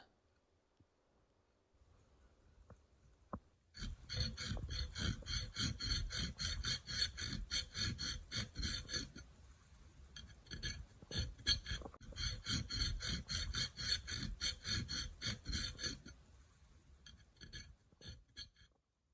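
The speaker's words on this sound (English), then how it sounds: "Now we can use a combination of a chainsaw file and the triangle file to continue to shape those into the exact profile that we want" A steel flamberg stiletto blade is shaped with a chainsaw file and a triangle file, giving bursts of rapid, rhythmic rasping strokes, close and fairly loud, with a short pause midway.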